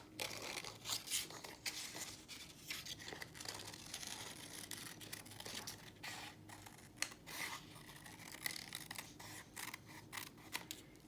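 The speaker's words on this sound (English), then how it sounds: "cut a circle out of this paper that's just a little bit bigger than the snowman head" Scissors snip through patterned craft paper to cut a circle for a snowman scarf, with quick, irregular close-up cuts and light crinkling of the sheet, and no voices.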